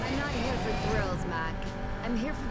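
A Mustang's engine drones in the racing game NFS Payback, a steady, rising and falling hum that runs throughout under a talking voice.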